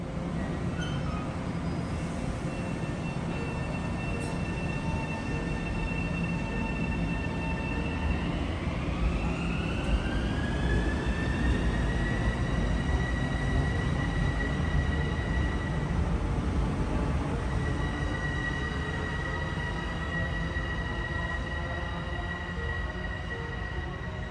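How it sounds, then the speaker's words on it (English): A Long Island Rail Road commuter train rumbles steadily at a platform in Grand Central Madison, with rising electric motor whine as it pulls away, a continuous loud drone throughout. "the 818 train is about to depart for Jamaica"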